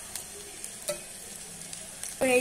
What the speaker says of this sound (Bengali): সর্ষের তেলটা দিয়েই করব ফ্রাইটা করব